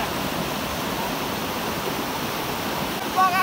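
A swollen river in Dharan rushes fiercely, a loud, steady broadband roar of churning water held close throughout, with a brief faint whistle-like tone near the end.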